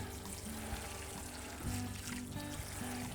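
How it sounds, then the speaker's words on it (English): Water trickles and pours onto the soil around a newly planted plant in Hawaii, a steady soft wash with a few faint tonal hums underneath and no talking. "So I water it, I let the water seep in, and then I'll come back in again and I'll really soak it."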